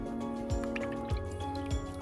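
Oil and beeswax melting together in a pan for a salve, giving soft, sparse bubbling pops and drips over a faint steady hum, quiet and close.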